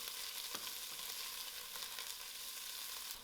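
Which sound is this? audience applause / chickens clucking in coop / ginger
ginger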